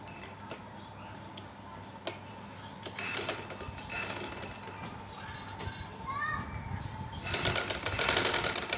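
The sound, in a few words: sewing machine stitching fabric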